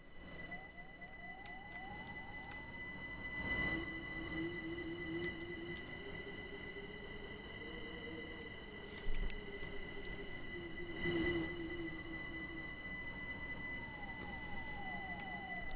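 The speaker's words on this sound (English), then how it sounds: "Here comes the train." A train in Minecraft rolls along its rails with a steady droning run, rising and falling tones, and a couple of clunks and squeals, moderately quiet and with no talk over it.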